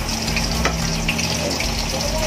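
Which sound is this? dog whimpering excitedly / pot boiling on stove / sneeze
pot boiling on stove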